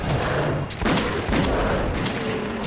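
Dense gunfire in the video game Metro 2033 Redux: a loud, continuous barrage of overlapping shots and booming blasts, with no pauses, close and harsh throughout.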